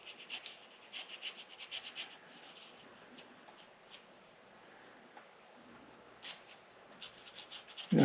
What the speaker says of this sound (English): Look how nice that razor blade works on these aluminum surfaces